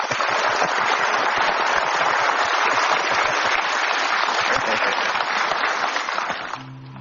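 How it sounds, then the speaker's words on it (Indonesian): A large audience claps steadily for poet Mustafa Bisri after a recited poem, a dense and loud wash of hands that holds for several seconds before tapering off at the end. "kita berikan aplaus yang paling meriah untuk Mustafa Bisri dalam puisinya"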